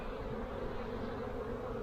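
Honeybees buzz thickly over an opened hive during a spring inspection, a close, even drone with no pause.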